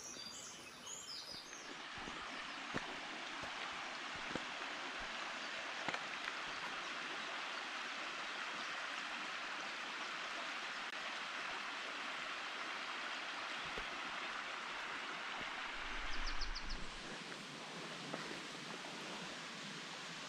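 Steady rushing water from waterfalls and a mountain stream in the Slieve Bloom Mountains, a constant broad roar filling the scene, with faint bird calls at the start and a brief rustle near the end.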